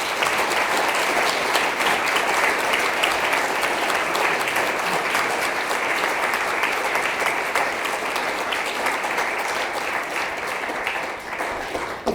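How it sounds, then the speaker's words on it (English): A large lecture audience gives a long, steady round of applause, dense clapping holding level throughout and easing slightly near the end. "I'd like to finish off by a fabulous round of applause for our school"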